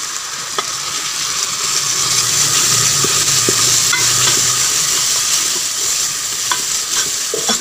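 Spice masala of turmeric, dried coriander and salt fries in a pan, giving a loud, steady hissing sizzle with intermittent stirring scrapes, close and continuous with no voices.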